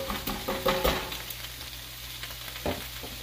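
Kale sautéing in garlic canola oil gives a steady close sizzle, with a few louder stirring scrapes and clatters early on and one more near the end.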